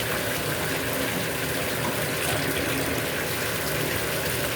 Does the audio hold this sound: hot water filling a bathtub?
yes